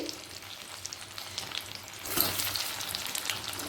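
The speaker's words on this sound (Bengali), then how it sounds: "তেলের মধ্যে ভেজে নেব আমি আরও একটা আলু সেদ্ধ অর্থাৎ চার টুকরো আলুকে একই সাথে ভেজে নিলাম" Boiled, peeled potato quarters fry in hot oil, giving a steady broadband sizzle that swells louder partway through, with no talking.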